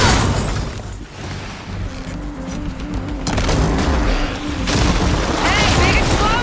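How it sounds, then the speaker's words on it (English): Explosion in the Horizon Forbidden West: Burning Shores game, a dense, loud blast of booming debris and crackling impacts running the whole stretch with game effects layered under it. "Hey, big explosion! Watch out!"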